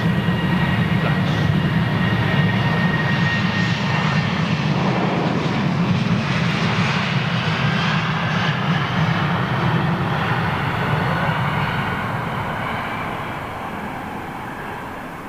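A Boeing airliner taxiing at London Heathrow Airport gives a steady, loud jet engine roar with a broad rumble and a high whine that hold throughout, then fade gradually toward the end.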